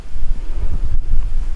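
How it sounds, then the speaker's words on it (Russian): Strong wind buffets the microphone in the open countryside near a village, a loud, continuous low rumble with gusty surges and one brief dip in the middle, with no one talking. "такое ветрище"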